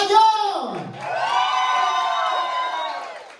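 At a 22nd birthday party, a small group of people cheers and whoops in a burst, their voices rising together after a short spoken call, close and fairly loud.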